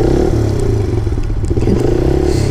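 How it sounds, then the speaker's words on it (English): A Kawasaki KSR 110 mini moto, kickstarted and running through a new aftermarket exhaust pipe, idles with a loud, steady, close throbbing rumble and a faint mechanical clatter. "Let me start it up so that you can hear what the new pipe sounds like."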